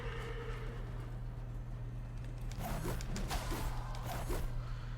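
A horse's hooves clip-clop at a steady pace in the video game Darksiders Genesis, against a low constant hum, with creaks and mechanical clatter joining partway through.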